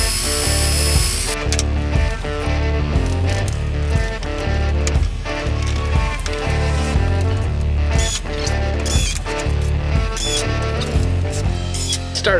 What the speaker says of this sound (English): drill it out so I can sink my screw in there